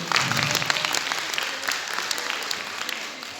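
An audience at a stage ceremony applauds warmly in a continuous, even patter of many hands at moderate loudness, with no voices standing out.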